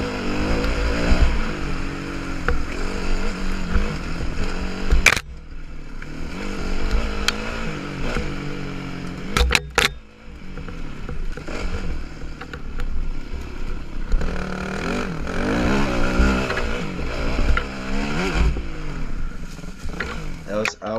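A motorbike ridden around a track loop, its engine rising and falling through revs and gear changes in repeated sweeps while a rider talks over it throughout.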